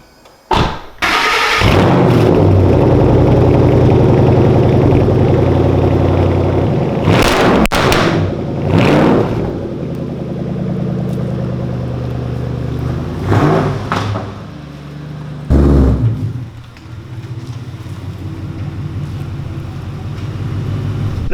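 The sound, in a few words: Ford Shelby GT500 cold start and engine idling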